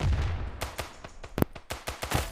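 Gunfire in the mobile first-person shooter Standoff 2 sounds as a rapid string of sharp, loud shots in uneven bursts, close and punchy, with no voices over them.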